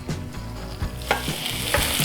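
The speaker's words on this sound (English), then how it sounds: "Oh, you hear the sizzle?" Beef steak fajitas with peppers and onions hit a reheated fajita pan. A close, busy sizzle breaks out with crackles and scraping clatter, and the hiss rises toward the end.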